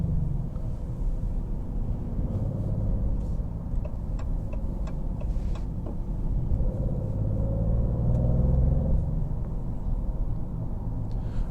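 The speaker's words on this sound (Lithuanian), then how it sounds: "Na ir nepakartojamas V6 netūnė variklio garsas." A 2024 Maserati GranTurismo Trofeo V6 on the road gives a steady, deep engine drone from inside the cabin, continuous and fairly loud, with faint ticking on top and no talking.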